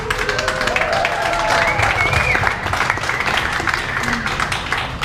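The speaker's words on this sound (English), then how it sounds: "a round of applause." Audience applause at an art walk event, a steady wash of clapping from a crowd that holds for several seconds, with voices mixed in over it.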